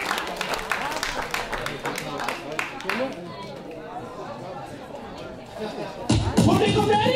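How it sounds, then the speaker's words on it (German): Crowd at a breakdance battle, with chatter and rhythmic beats giving way near the end to a loud swell of audience clapping and cheering. "Let's go, Applaus!"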